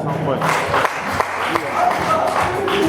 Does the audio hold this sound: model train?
no